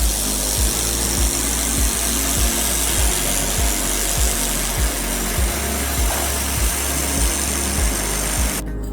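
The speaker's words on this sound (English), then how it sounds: "Welding thicker stainless steel three-way pipes is very easy." A 1200W air-cooled welding machine joining thick stainless steel three-way pipes, a loud steady hiss and hum with a regular rhythmic ticking pulse throughout, close and alone.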